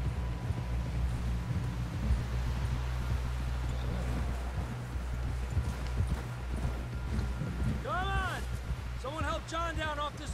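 Horse hooves in Red Dead Redemption II, a steady run of clip-clopping footfalls with a short whinny near the end, played under game voices speaking.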